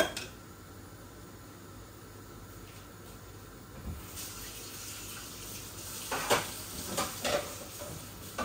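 Chunks of diced potato are stirred into minced meat frying in a pan, a steady low sizzle under scraping stirs that grow louder and more clattery toward the end.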